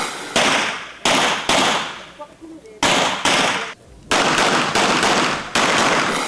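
Gunfire at a shooting and firing range at a resort in Pagudpod, Ilocos Norte: around nine loud, sharp reports, singly and in quick pairs, each trailing a short echoing decay.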